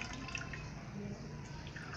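Ground almond paste wrung out in a cloth, with liquid trickling and dripping steadily into a vessel; faint and close, with no talk.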